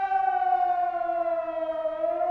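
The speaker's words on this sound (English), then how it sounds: "they would trigger the major incident command and control, which results in the sirens being sounded" A civil defence major incident siren at Grangemouth wails alone in a single loud, steady rising tone with strong harmonics and a slight downward drift, heard clearly with no other sounds.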